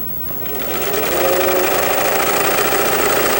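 A home sewing machine runs at steady speed stitching a fabric seam, a close, continuous rapid mechanical whir that builds slightly in the first second and then holds even.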